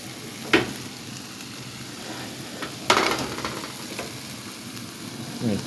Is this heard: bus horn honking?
no